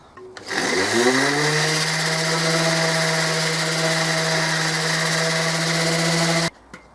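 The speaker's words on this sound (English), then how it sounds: "now I'm going to go with the sanding machine and just make them identical" A power sander on wood beams spins up and runs steadily at a constant pitch for several seconds, loud and close, then cuts off abruptly.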